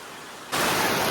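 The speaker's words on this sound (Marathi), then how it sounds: "फायनली पावसाने जोरदार आगमन केलंय आपल्या कोकणात." Heavy monsoon rain in a Konkan village, starting abruptly after a half second of quieter ambience and then pouring as a loud, steady broadband hiss.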